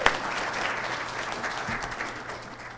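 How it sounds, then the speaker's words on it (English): Audience applause for Cristina at a Bank On WA community event, a steady wash of clapping that carries at even loudness through the whole stretch and fades slightly at the end. "everyone give her another round of applause"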